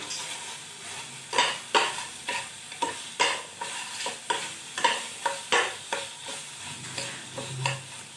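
Tomato chutney is stirred in a pan, a spoon scraping the bottom in a regular rhythm of about a dozen strokes over a low background sizzle.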